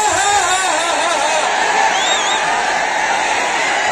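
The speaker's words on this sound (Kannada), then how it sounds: "ಬರ್ಲಿ ಜೋರಾಗಿ ಚಪ್ಪಾಳೆ." A large crowd at a wrestling-style bout roars and cheers loudly and continuously, with whoops rising above the sustained din.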